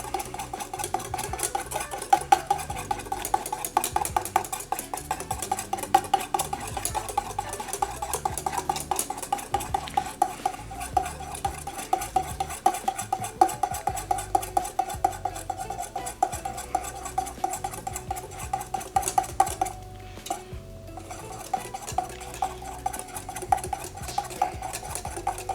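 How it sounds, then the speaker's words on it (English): Butter being whisked into eggs for hollandaise sauce: a rapid, steady metallic whisk rattling against a bowl, close and continuous for the whole stretch, briefly pausing near the end. "you gotta stay whisking or else you're gonna make eggs"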